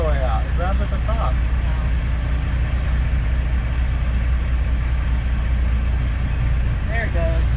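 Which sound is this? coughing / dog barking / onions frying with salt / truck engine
truck engine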